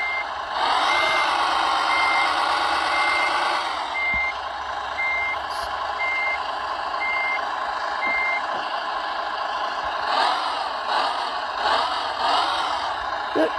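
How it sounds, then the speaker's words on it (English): Pickup truck with a blown tire backing up along a roadside, its reversing alarm sounding steady evenly spaced beeps over a loud continuous engine drone, with brief whooshing passes near the end. "Let me move the truck back."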